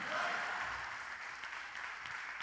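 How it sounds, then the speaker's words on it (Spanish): A church congregation claps during a sermon, a steady dense patter of many hands that is moderately loud and fairly close, with faint voices mixed in. "Dale palmas al Señor, hermano."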